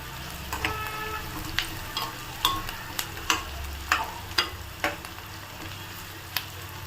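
A spoon stirs tomato curry in a pan over low flame, sharp scraping clicks repeating every half second or so over a soft steady sizzle, close and alone.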